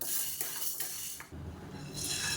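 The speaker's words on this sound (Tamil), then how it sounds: "இதை சேர்த்து நல்லா வறுத்துக்கலாம்." Green gram (moong dal) dry roasting in a pan, a soft rattle and scrape of grains being stirred, with a short quiet gap partway through.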